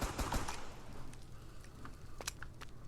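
Video game gunfire and reload: a burst of rapid shots up front, then a string of scattered mechanical clicks and clacks from the weapon reload animation, no voices.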